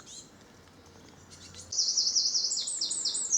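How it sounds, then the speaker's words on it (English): Blue tit and robin sing along a countryside footpath on a summer walk, high thin chirps and trills rising louder midway and continuing as bright repeated phrases, with no voices. "you'll be able to hand pick the birds you hear now. Blue tit, robin"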